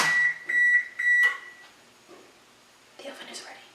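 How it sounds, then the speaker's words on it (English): Three loud electronic beeps from a kitchen oven signalling it has finished preheating, evenly spaced in the first second and a half, followed by quieter kitchen rustling. "The oven is ready."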